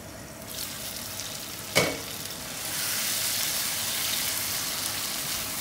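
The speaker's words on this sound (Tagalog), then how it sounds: "Hahaluin ko lamang ito at tatakpan at papakuluan ng mga ilang minuto." Sliced squash sautéing in a pan while being stirred, a steady sizzle with a single sharp scrape or clatter near the start, then a slightly louder continuous frying hiss; close, with no talking.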